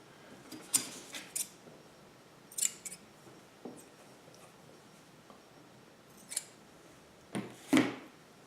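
Sewing scissors cutting fabric for a Hawaiian shirt, several sharp, crisp snips spaced irregularly at close range in a quiet room, with soft handling rustle between cuts.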